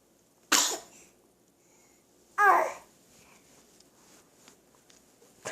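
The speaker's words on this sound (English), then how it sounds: "Mommy loves it when you do that little noise after sneezing." A baby's small, sharp sneeze, then after a pause a second short squeaky vocal noise, both close and isolated against near silence.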